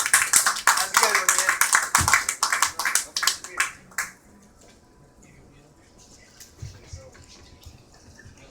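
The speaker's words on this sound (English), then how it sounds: "Round of applause for Michael, everybody." Audience applause after a stand-up comedy set at a club, dense rhythmic clapping for about four seconds that then breaks off to scattered faint claps and room noise.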